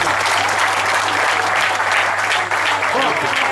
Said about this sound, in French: on applaudit pour vous-même